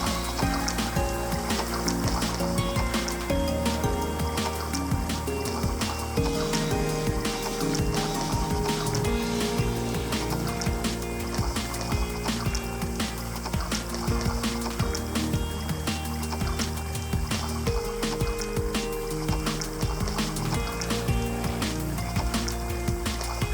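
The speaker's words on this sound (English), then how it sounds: "paddling over here" A small boat is paddled on a dark, tannin-stained lake at McDonald Lake near Yes Bay, Alaska, with continuous close water trickling and dripping and rhythmic paddle splashes throughout.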